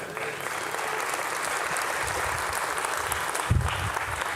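A conference audience at a Laracon talk breaks into steady, dense applause, filling the room at a moderate level for several seconds.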